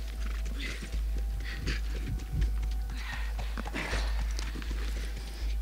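Horse hooves clip-clop in The Last of Us video game, a steady run of soft, near footfalls over a low constant rumble of game ambience.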